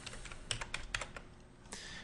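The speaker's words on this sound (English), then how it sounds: "So just start typing some random values." Rapid, uneven clicking of a computer keyboard as random numbers are typed, with a handful of distinct keystrokes and a short flurry near the end, close and alone without any voice.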